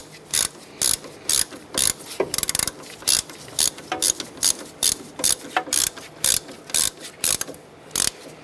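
Ratchet tightening a bolt on the ABS bracket while replacing the front strut assembly of a 2008-2012 Honda Accord: steady repeated bursts of close, loud ratcheting clicks in an even rhythm, with no talking.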